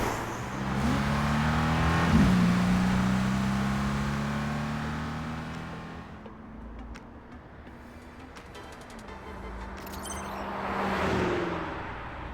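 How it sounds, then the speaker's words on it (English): A car accelerates in the video game Love and Deepspace during a midnight street race, the engine roaring up and holding a steady pitch before easing off, then surging again near the end, with no talk. "I need to step on the gas."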